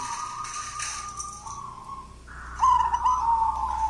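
Soft, rolling dove coos repeat at mid pitch, with a louder, closer trilled coo near the end over faint background noise.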